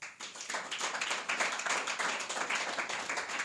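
A congregation at a Friday fasting prayer service claps loudly and in rhythm, producing many overlapping hand claps that build quickly and continue at full strength without talking.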